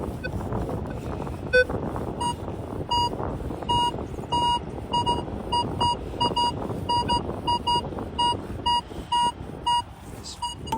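Repeated electronic beeps from a metal detector, short tones in irregular bursts, ringing out clearly over wind noise and rustling outdoors at Corio Bay.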